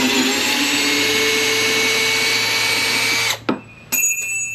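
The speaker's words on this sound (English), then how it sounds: "I'm gonna drill a hole." A power drill bores a hole into a Champion boat trailer during bunk board repair, whining loudly and steadily for over three seconds before stopping abruptly, followed by a couple of brief restarts and clanks.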